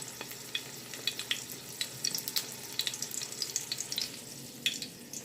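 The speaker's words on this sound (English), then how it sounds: "Hear that nice sizzle?" Trinidadian bara dough patties sizzle in hot oil with sharp crackles and pops, a close, lively spattering sound over a soft frying hiss.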